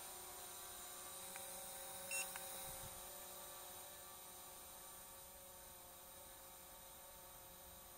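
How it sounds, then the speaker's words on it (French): A Hubsan H117S Zino quadcopter drone climbs with a steady high-pitched motor whine, constant and faint from a distance, with a few brief electronic beeps. "Donc le drone monte."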